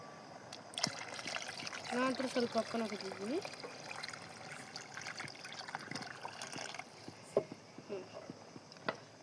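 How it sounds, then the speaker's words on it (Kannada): Water trickles and pours into a pot of chicken biryani as it is being cooked, running for a few seconds beneath steady nearby talk. "ನಿಮ್ಗೆ ಎಷ್ಟು ಬೇಕು ಅಷ್ಟು ಹಾಕೋರಿ ನೀರು"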